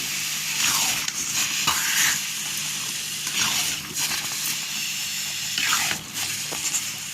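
Fried paneer being stirred into palak in a pan for restaurant-style palak paneer, giving repeated scraping strokes over a soft, steady sizzle, close up with no talking.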